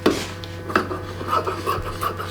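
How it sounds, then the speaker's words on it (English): Scissors trimming the edge of Banarasi sari fabric while dressing a murti, making a few brief, soft rasping cuts and rubs close by with no talking. "And we're going to trim this edge too."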